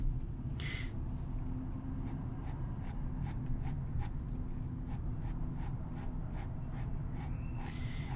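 A fountain pen nib scratches rough lines across paper in a steady series of short, dry strokes, close and quiet, with a faint background hum beneath.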